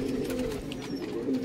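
A Madrasi pigeon coos in a loft in Buldana, giving a low, continuous, throaty call close by.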